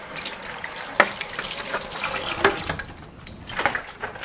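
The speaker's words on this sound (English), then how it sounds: "I just try to rinse as much of the soap off as I can" Running water from a sink tap rinses soap off microgreen growing trays, a steady splashing stream broken by several sharper splashes and clatters as the trays are handled.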